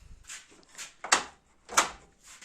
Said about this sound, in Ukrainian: Зараз дивимось, закриваю двері.